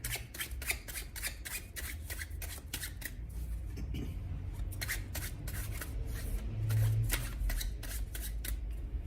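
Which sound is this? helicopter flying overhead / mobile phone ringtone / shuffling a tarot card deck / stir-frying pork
shuffling a tarot card deck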